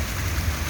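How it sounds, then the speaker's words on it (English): Torrential rain that has been falling for hours, heard as a dense, constant wash of heavy downpour with a deep rumbling undertone and no voices. "But look, it is really torrential. But this has been raining for 5 hours,"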